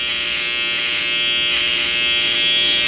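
An electric hair trimmer buzzes steadily at close range while cutting a skin fade, one loud continuous drone with no pauses or talk.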